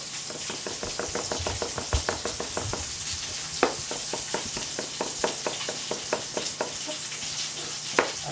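Chicken cooking in a pan over a gas flame for onion-braised chicken, a steady close sizzle running throughout with regular soft tapping and clicking over it.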